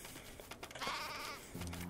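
Sheep bleat in the video game Craft the World, with one short, faint bleat in the middle and a brief tonal sound near the end over quiet game ambience.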